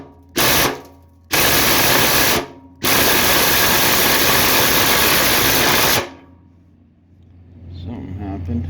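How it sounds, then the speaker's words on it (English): An impact wrench hammers at a frame bolt on a 1929 Chrysler, fitted with a wrong-size socket. Two short loud rattling bursts come first, then a sustained burst of about three seconds, then the workshop falls quiet. "I'm going to hit it with an impact here"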